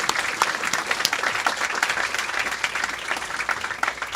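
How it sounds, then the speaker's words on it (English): An audience applauds a bestselling book at a talk with its author, a steady, full round of many hands clapping throughout, dense and even in loudness. "Can we get a round of applause for that?"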